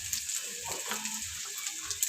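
Cumin powder and turmeric fry in oil for a biryani masala, giving a soft, continuous sizzle close by, with faint low stirring scrapes and knocks underneath.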